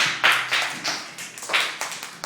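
Scattered bursts of clapping from a small group of children, uneven and loose in rhythm, fairly close.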